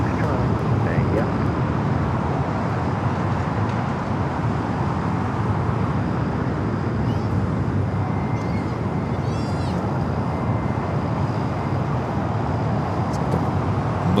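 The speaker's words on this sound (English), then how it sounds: "Turkish 777 taking off there on the north side" A Turkish Airlines Boeing 777 taking off at LAX from the north side: a steady, broad, distant jet roar holding level throughout without a clear rise or peak, with no talk over it.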